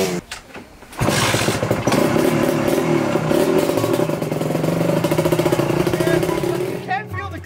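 A motorcycle roars up after a quiet opening and holds a loud, rough engine note with rattling clatter, then fades out at the end.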